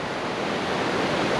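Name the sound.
river rushing in canyon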